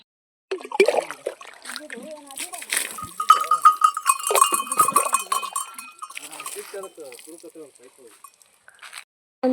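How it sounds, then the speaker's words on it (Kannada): Water is poured over a buffalo's hump and back on a farm, with irregular splashes and trickles and occasional bell clanks, under people talking. "ಎಮ್ಮಿಗೆ ಒಂದು ಸ್ವಲ್ಪ ನೀರು ಹಾಕ್ಲತ್ತೀನಿ"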